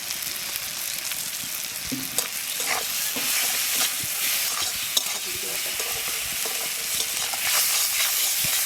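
Ground coriander and cumin are stir-fried in a pan for an egg and brinjal curry, with continuous close sizzling under repeated scraping stirs of a spoon across the pan.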